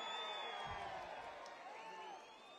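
An audience at a political speech for Lokesh claps and cheers with whoops and shouts, a steady loud crowd roar that fades slightly near the end.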